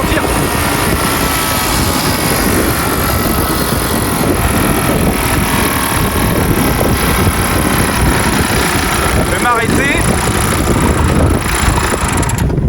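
A Solex moped engine buzzes loud and close as it is ridden, a steady droning note with wind noise that holds for the whole stretch without speech.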